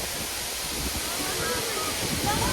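A waterfall on the Mardi Himal trek in Nepal rushes as a steady, broad roar close by, continuous throughout with faint voices underneath.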